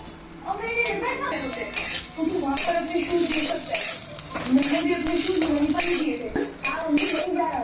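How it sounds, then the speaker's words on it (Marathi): Grated coconut roasting in oil in a pan, stirred continuously with a metal spatula: frequent scraping and clinking strokes over a soft sizzle, close up, with some voice in the background. "या पद्धतीने गुलाबी रंगावर येईपर्यंत खोबरं परतवायचं आहे"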